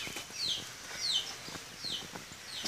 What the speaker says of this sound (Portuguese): E ali tem as galinhas, ó.